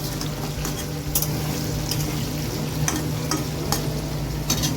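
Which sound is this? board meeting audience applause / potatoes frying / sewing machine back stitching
potatoes frying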